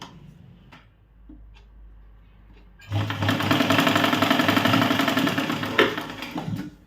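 After a few seconds of near quiet, a sewing machine stitching a blouse shoulder seam whirs into a loud, fast, steady rattle for several seconds close by.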